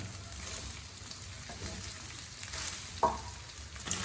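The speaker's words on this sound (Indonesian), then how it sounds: "Kita aduk dulu ya" Nasi goreng fried rice being stirred in a pan sizzles continuously, with a few sharper scrapes and knocks of the spatula toward the end and no speech.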